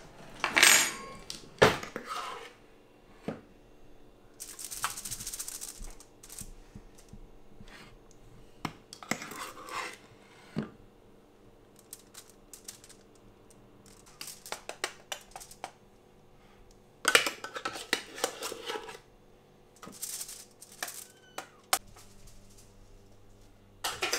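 A spoon and fork scrape and clink against a plate while spreading pavlova meringue into a wreath shape, irregular close metallic taps and short scraping bursts separated by quiet pauses.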